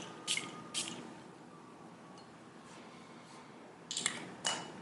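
A bottle of Chanel Sycomore perfume sprays in short hissing bursts, two quick pumps, a pause, then two more, close and crisp against a quiet room.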